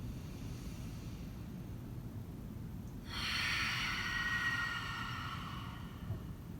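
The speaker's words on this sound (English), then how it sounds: "Inhale through the nose. And exhale." A slow, deep yoga breath, steady and soft at first, then a longer, fuller exhale that swells and lingers close to the microphone before easing off.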